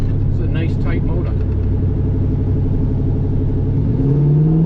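Engine of a 2001 Chevrolet Silverado truck cruising at 1400 RPM, a steady loud low rumble heard from inside the cab throughout, with a rising tone near the end.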